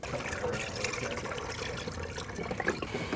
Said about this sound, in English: fill your reservoir up to your max line with your manufacturer's specified